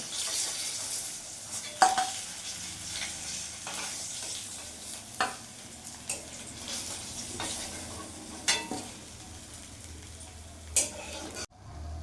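Katla fish pieces frying in oil, a steady close sizzle with occasional sharp clinks and scrapes of a utensil against the pan, ending with a brief drop to quiet.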